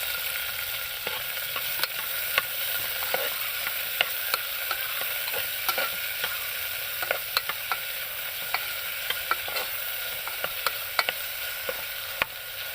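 Sliced onions sauté with ginger and garlic in a pan for a Kerala-style potato curry, giving a steady, even sizzle with regular sharp clicks and scrapes from stirring, close and with no talk.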